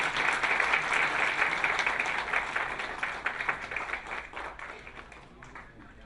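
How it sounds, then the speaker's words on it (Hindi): An audience claps to welcome a guest speaker, Dr. Biswaroop Roy Chowdhury, at a health talk on heart disease; a loud burst of applause that slowly thins and fades over several seconds, with no talking. "एक बार ताली बजाकर के स्वागत करें।"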